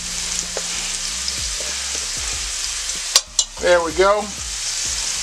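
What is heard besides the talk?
minced garlic and onions frying in pan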